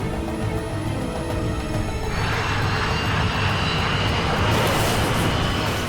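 A KLM jet airliner roars down the runway at nearly 200 miles an hour, a steady loud engine rush that builds and brightens toward the end, with no voices.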